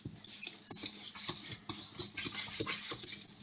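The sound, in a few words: mixing cornbread batter in a bowl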